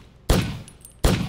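Two loud, abrupt gunfire bursts from a video game titled Takedown: Red Sabre, spaced about three-quarters of a second apart, each with a brief rattling tail.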